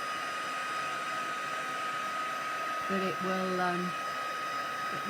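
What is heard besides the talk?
heat tool drying acrylic paint on art journal page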